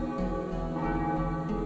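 A church bell tolls in a steady, resonant ring with sustained layered overtones and a faint pulsing decay, heard alone and fairly close.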